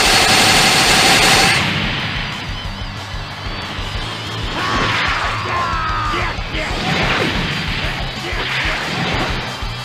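In the Tekken fighting game, a Missile Barrage attack sets off a loud, dense stream of rapid blasts, cracks and whooshing streaks that overlap continuously for several seconds, with no talking.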